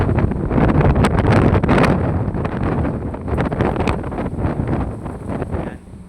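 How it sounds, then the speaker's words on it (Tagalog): Strong gusts of Typhoon Tino roar and buffet the microphone outdoors, a loud, rumbling rush with rustling that surges and eases without letup. "pakinggan nyo nung tunog ng hangin"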